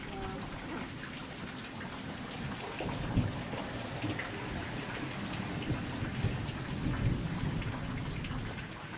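Thunder rumbles under steady rain during an April thunderstorm, the downpour a constant hiss with low, rolling rumbles swelling now and then, near and fairly loud; a faint voice is present at times.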